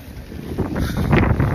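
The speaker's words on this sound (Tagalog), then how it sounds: "mahangin na malamig." Gusty wind buffeting the microphone, a loud rumbling roar that builds toward the end.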